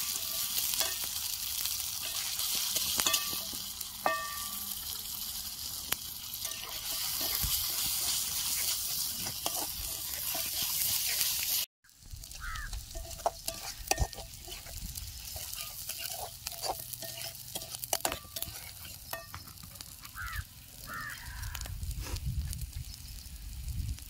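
Ground onion and coconut masala frying in a pan over an outdoor wood-fired stove, a continuous close sizzle with stirring scrapes and a brief cut partway through.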